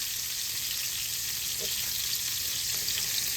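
Hamburger patties sear in a pan for an old-school smothered hamburger, giving off a steady, even sizzle that holds close and level throughout with no voices.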